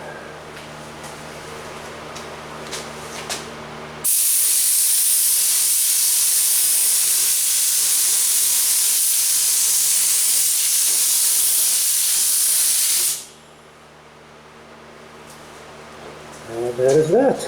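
Spray gun laying PPG Envirobase Ford Tuxedo Black paint onto a test panel, a loud steady hiss lasting about nine seconds, preceded and followed by quieter background noise.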